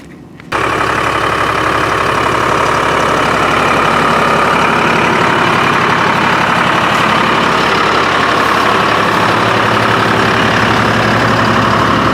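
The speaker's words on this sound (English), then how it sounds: "Skidder's warming up." A Timberjack skidder's heavy diesel engine starts and idles while warming up in Maine woods, a loud, steady, close rumble that runs unbroken to the end with no talk.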